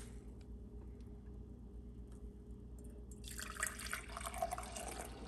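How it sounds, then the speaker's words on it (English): Freshly brewed coffee is poured from a brewer into a festival mug, a faint trickle rising into a fuller liquid splash partway through, quiet and close with no voices. "Let's pour it out and try it."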